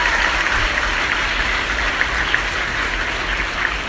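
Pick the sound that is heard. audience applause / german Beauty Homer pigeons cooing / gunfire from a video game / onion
audience applause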